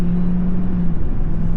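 A GMC Sierra 2500 AT4X pickup with a Duramax diesel engine, towing a trailer, pulls at wide open throttle with a loud, steady, low rumbling drone heard from inside the cab.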